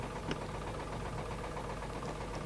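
A 10-horsepower diesel engine powering a village multifunctional platform runs steadily at a constant pace, faint and distant, with a low, even mechanical drone.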